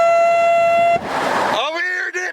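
A loud, sustained air horn blasts on a golf course for about a second, followed by rough noise and a second, wavering horn toot, all close and dominant.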